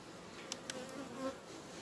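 Honey bees buzz around a hive in August, a faint, steady, close drone with a couple of individual bees passing nearer.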